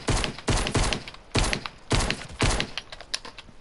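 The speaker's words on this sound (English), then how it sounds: "Is that you shooting?" Gunfire in the Fortnite video game: a run of sharp, close shots in irregular bursts, several rapid cracks spaced about half a second apart.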